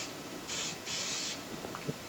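Two short bursts of Ballistol aerosol oil sprayed into a plugged Dan Wesson Valor 1911 pistol during cleaning, a brief hiss followed by a longer one, close and fairly quiet with faint handling clicks after.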